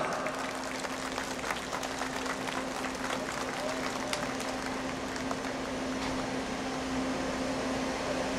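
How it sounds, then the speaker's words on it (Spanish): Outdoor crowd applause at a plaza and lookout inauguration in Canchaque, Peru, steady scattered clapping heard at a distance over a constant low electrical hum. "¡Vengan esas palmas!"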